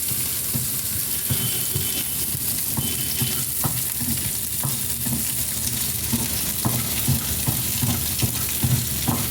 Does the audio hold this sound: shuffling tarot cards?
no